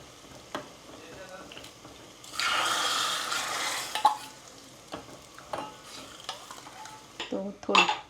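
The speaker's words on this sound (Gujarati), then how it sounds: "અહીં દાળનો વઘાર થઈ ગયો." Dal tempering with curry leaves sizzles in a pan, a burst of frying hiss followed by scraping stirs and metal clinks of a spoon against the pan, close by.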